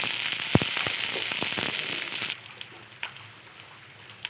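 Curry leaves hit hot oil for a Kerala-style mushroom gravy curry, an intense, close crackling sizzle with sharp pops that abruptly settles into a quieter, gentler frying hiss halfway through.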